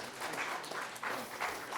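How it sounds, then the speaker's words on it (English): Audience clapping for a winning team at a game development workshop, a short burst of moderately loud, dense applause. "Let's give a round of applause to the team."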